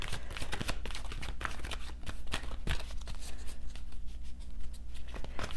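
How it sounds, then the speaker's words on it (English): Oracle cards being shuffled and drawn, giving a steady run of soft papery riffles and flicks with sharper snaps at intervals, close by and fairly quiet against a low background hum. "so now let us go and pull some oracle cards"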